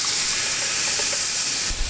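Canned San Marzano tomatoes poured into a hot gumbo pot, a continuous loud hissing rush of steam and sizzle, close and steady for the whole moment.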